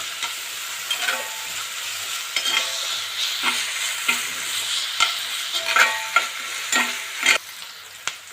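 Half a tomato goes into chicken frying in a pan, bringing a continuous sizzle broken by regular spatula scrapes and knocks against the pan, loud and close with no voices.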